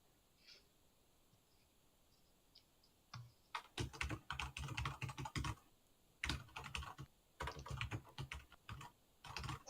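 Quick clatter of fingers typing on a computer keyboard, starting after a quiet lull and continuing in dense bursts with brief pauses, close and fairly loud.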